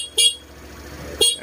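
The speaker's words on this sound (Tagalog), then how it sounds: "Ito po yung switch button ng loud horn at saka na stock horn." An aftermarket loud horn on a Suzuki Burgman Street 125 scooter gives two short, sharp, loud blasts about a second apart, with a faint background hum between them.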